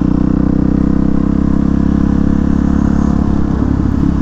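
Yamaha FZ-09 motorcycle engine idles close by, a loud, steady, throbbing rumble with a fast even pulse that holds unchanged for several seconds.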